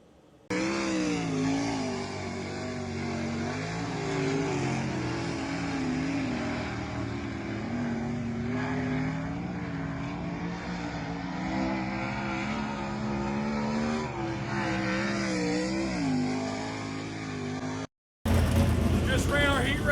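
Dirt track race cars at Thunder Mountain Speedway roar continuously, a steady engine drone with shifting pitch that cuts out briefly near the end before resuming loudly.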